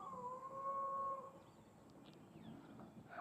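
Intoxicated people imitating dog howls, a long sustained howl-like tone rising and holding for about a second, moderately loud over steady outdoor background noise, followed by fainter distant sounds.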